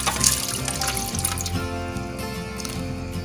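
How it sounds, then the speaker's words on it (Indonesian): Prepared water is poured into a container to be boiled for a cough remedy, a steady close splashing stream that stays fairly loud throughout with no talking. "Selanjutnya kita tuangkan air yang udah kita siapkan tadi."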